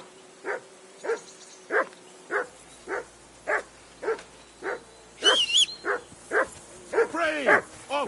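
A dog in Kingdom Come: Deliverance barks in a steady, evenly spaced series of short woofs, then shifts into higher whining and whimpering near the end, fairly close and clear.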